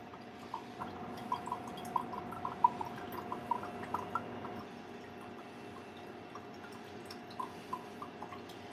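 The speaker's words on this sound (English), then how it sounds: "we're gonna put our Worcestershire sauce on there so we can try and get all of that garlic out" Half a cup of Worcestershire sauce is poured over garlic in a pan while making New Orleans-style BBQ shrimp, a faint liquid trickle with scattered soft drips at close range.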